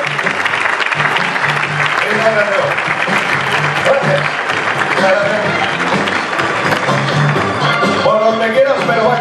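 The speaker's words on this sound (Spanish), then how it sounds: "Y despedimos con ese aplauso que estáis derrochando últimamente." A large audience applauds at a media awards gala, sustained loud clapping over the whole stretch while someone speaks over it in Spanish.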